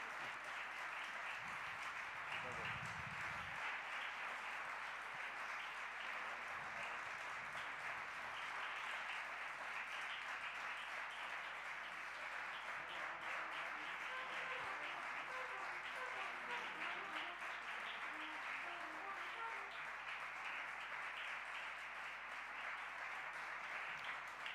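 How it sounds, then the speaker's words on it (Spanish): Sustained audience applause fills a jazz club after a concert set by a jazz group, a steady dense wash of clapping from a masked crowd, with faint voices underneath. "muchas gracias por los aplausos"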